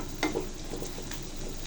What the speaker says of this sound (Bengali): লোটে শুটকি রান্না করার জন্য প্যানে দিয়েছি পেঁয়াজ।